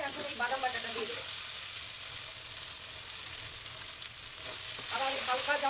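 Almond paste going into hot oil for a prawn curry, a steady close sizzle with soft stirring scrapes, and a brighter bubbling spit at the start and again near the end.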